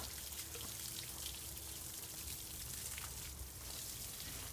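A garden hose sprays water onto a pomegranate tree heavy with fruit, giving a steady, close hiss of spray and patter on leaves that runs unbroken throughout.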